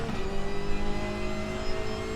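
A WTCR touring race car in the RaceRoom sim at the Nürburgring GP circuit, its engine droning loud and continuous with a wavering pitch as it revs and shifts, heard alone with no voices.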